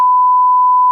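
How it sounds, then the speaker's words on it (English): A single steady censor beep covering a name in a podcast conversation, one loud pure tone lasting about a second that cuts off abruptly, with no voices underneath. "We're going to beep her name."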